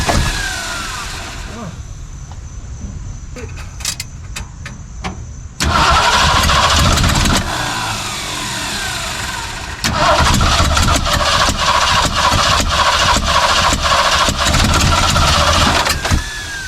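A Ford 289 V8 cranks over and catches, stumbling into a loud rough idle, then falters and surges again with a second burst of engine roar up close.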